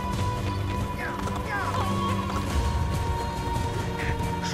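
Horse hooves galloping in the video game Assassin's Creed Brotherhood, a quick rhythmic clatter of hoofbeats running steadily under game sounds and ambient noise.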